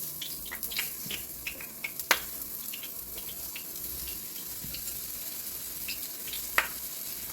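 Hot oil heating in a pot for beef stew, a faint steady sizzle with scattered small pops and crackles throughout.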